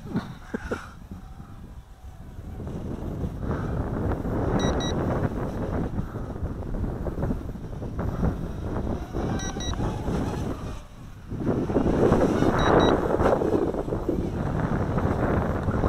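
Gusty wind rushes outdoors over a grassy sports field, a continuous roar that swells and eases, with microphone buffeting loud throughout and a strong surge near the end.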